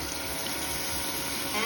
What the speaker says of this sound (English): add about 2 cups of water should be enough,